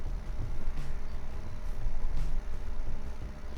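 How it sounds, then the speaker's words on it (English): Combine harvester engine in the video game Farming Simulator 15, a steady low rumbling drone with a constant broadband hum, running at a moderate level throughout with no voices. "It sounds pretty nice, too, this tractor. This combine, I should say."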